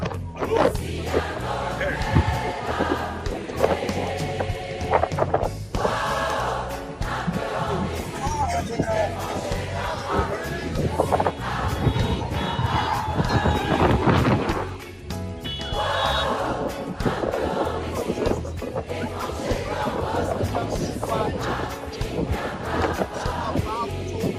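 A crowd of citizens cheers outdoors as lights come on, with wind blowing hard. The roar is loud, dense and continuous for the whole stretch, a thick wash of voices with no pauses.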